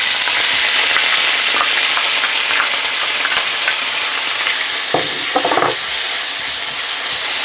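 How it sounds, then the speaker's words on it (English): Onions frying hard in a pan on high heat throw off a loud, steady sizzle and hiss, broken by a few brief stirring clatters toward the end. "straight in with the onions, and we're going to fry these until they're slightly golden brown"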